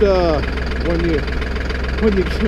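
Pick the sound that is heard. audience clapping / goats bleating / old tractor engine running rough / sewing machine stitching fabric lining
old tractor engine running rough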